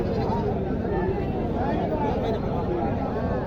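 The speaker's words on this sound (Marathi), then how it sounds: "बिटल बोकड आहे." A Beetal goat buck bleats at a busy goat market, its wavering calls rising over a dense babble of nearby voices and crowd noise.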